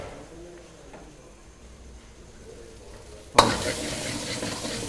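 Mixed vegetables with green peas frying in a pan for a Kerala curry, a quiet low sizzle with faint stirring that suddenly jumps into a loud, harsh hiss and clatter near the end.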